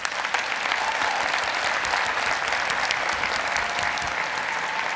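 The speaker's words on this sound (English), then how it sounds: "I'd appreciate it if you could give them a round of applause" Steady, dense applause from a conference audience at an SEO marketing event, sustained and even throughout with no pauses.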